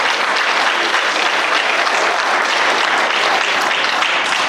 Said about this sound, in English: Clap it up for Mr. Ricky Rhodes.